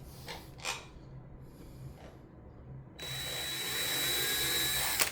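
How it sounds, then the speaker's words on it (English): A power drill spins up and runs steadily with a whining tone for a couple of seconds, after some quieter handling noises. "take our drill."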